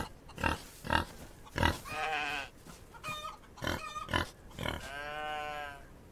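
Pig grunts and bleating squeals in a video game come in short bursts and a few longer drawn-out calls, fairly close, with no talking.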